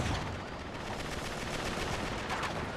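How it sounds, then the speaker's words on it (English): Blind-fire gunshots in Uncharted 3 crackle as a rapid, steady burst of automatic fire, loud and continuous over dense combat noise, without speech. "look at that blind fire"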